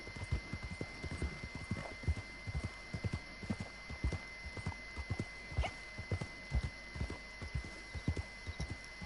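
Horse hooves clip-clop in Red Dead Redemption Online as a mediocre horse trots steadily along, an even rhythmic patter of hoofbeats over a low background hum, with no talking.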